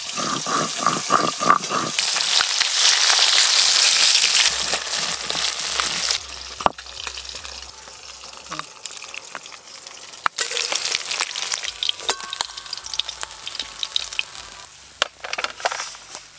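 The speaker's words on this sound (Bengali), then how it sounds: "মাছ ভাজা তো সব হয়ে গেল" Fish frying in hot oil while cooking a thin fish curry with pumpkin greens, a loud steady sizzle that fills the first seconds, then a quieter crackle broken by scraping and clatter from utensils.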